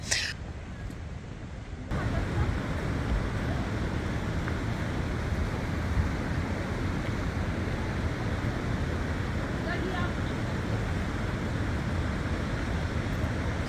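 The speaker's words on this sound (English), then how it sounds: "It's a not huge waterfall. It is about 9 meters high, rather wide." Bow Falls in Banff, a wide waterfall about nine meters high, gives off a constant roaring wash that holds steady throughout, with someone talking over it.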